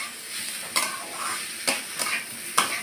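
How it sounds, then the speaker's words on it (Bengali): Lentils frying in a pan with boiled banana stem, a continuous soft sizzle broken by four distinct scraping stirs of a spatula, close and fairly quiet. "সামান্য একটু নাড়াচাড়া দিয়ে নিলাম, কারণ ডালটা বেশি ভাজা ভাজা হয়ে গেলে সেটা আবার ফুটবে না"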